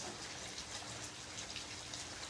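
Heavy rain falls in Jammu as a steady, dense wash of water noise, unbroken and fairly near, with no talking.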